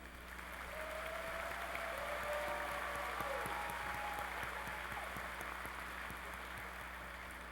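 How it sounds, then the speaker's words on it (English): Sustained applause from a large audience for doctoral graduates at a university commencement in a big hall, even and continuous, heard from some distance. "Let's applaud the doctoral graduates."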